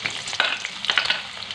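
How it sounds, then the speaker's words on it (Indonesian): Shallots and spice paste hitting hot vegetable oil in a pan while cooking spicy tuna, giving a steady close sizzle broken by a few louder crackling bursts as the ingredients go in and get stirred. "Ini minyaknya udah panas. Jadi, saya langsung saja masukin bumbu"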